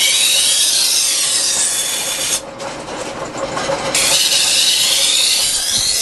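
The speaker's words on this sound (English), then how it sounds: "And this man here, he is sharpening the knives." A man sharpens knives at a shop in a souk in Tlemcen, Algeria, making a loud, steady grinding hiss that carries on throughout and dips briefly in the middle.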